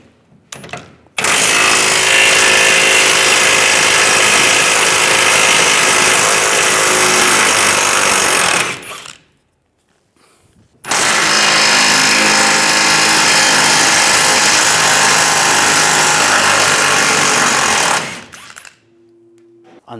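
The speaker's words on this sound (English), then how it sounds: "you're going to have to take those two bolts out. Use a 21mm socket." Power tool with a 21mm socket spinning out trailer hitch bolts under the rear bumper of a 2007-2013 Chevrolet Silverado 1500, two loud sustained whirring runs of about seven seconds each, separated by a brief pause.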